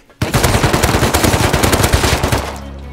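Automatic weapon fire in a fight in the video game Rust, a loud, close burst of rapid shots lasting about two seconds before cutting off into a low rumble.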